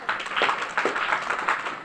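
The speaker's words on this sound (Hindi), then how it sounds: "इनके लिए ताली बजाओ जरा" An audience claps hands at a religious storytelling gathering, a few uneven bursts of applause from a moderate crowd, close and fairly steady, with no talk over it.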